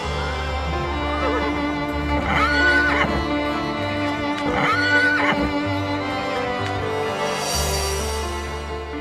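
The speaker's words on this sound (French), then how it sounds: "Ces chevaux sauvés par la Fondation n'ont plus rien à craindre." Rescued horses neigh twice in loud, shrill whinnies a couple of seconds apart, close by over a steady outdoor background.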